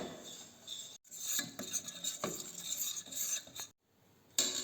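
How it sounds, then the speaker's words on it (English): A whisk works all-purpose flour into melted butter in a small saucepan, scraping and rasping against the metal in short bursts separated by brief pauses. "all-purpose flour into melted butter, and whisk it"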